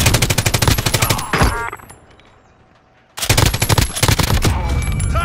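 A large mounted gun in a video game fires rapid loud bursts, pauses for about two seconds, then resumes sustained heavy fire.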